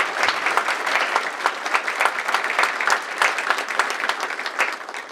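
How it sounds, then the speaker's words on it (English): Sustained, dense applause from a civic audience at a city's State of the City presentation, steady clapping throughout with slight swells, no voices standing out. "let's give the Lakes of Taylor, their staff, and everyone else a big round of applause"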